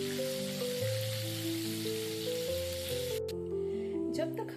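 Fish sizzles steadily in a frying pan, a constant hissy crackle like light rain running beneath a melodic music track, with a brief clatter near the end.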